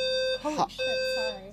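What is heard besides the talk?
building fire alarm going off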